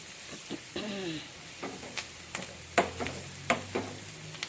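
Curry leaves spluttering in hot oil in a pan while cooking puffed-rice idli batter, crackling in sharp, irregular pops that grow louder and more frequent toward the end, over a soft stirring hiss.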